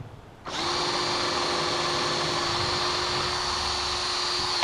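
A power drill starts up after a brief pause and runs steadily at high speed, drilling through metal and grinding continuously close by with no letup.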